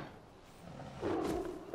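A tiger roars in the Far Cry 4 video game, a deep, rough growl swelling suddenly after a quiet start and holding briefly at moderate loudness, with no speech.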